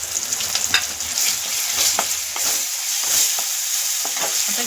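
Ginger garlic paste sizzling and frying in hot oil with onion and tomato for a village-style egg masala, with a steady hiss and irregular scraping stirs of a spoon in the pan. No one speaks.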